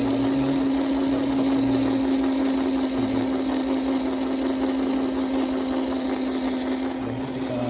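A small electric motor runs steadily at medium speed, a constant whirring hum with a strong steady tone, continuous and unchanging throughout with no talking.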